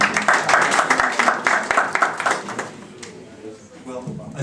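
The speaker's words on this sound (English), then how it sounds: "Please, clap for you." A crowd at a Nigerian community career-building workshop in Ternopil, Ukraine, claps steadily for a couple of seconds, then the applause fades into room murmur.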